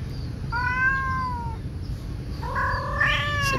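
A tomcat in heat during mating season meows loudly and close by, giving one drawn-out call and then a rising, wavering second call after a pause, with no talk.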